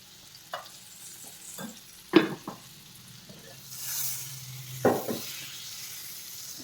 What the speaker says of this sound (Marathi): आता आपण पनीर तळून घेऊ. हे बटर टाकून घेऊ. त्याच्यासोबतच तेल टाकून घेऊ.